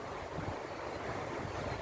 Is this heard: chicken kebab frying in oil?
no